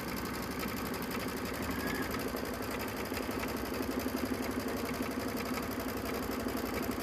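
Embroidery machine stitching a tack-down outline, a steady, fast, rhythmic mechanical chatter of needle strokes that runs continuously at even loudness throughout.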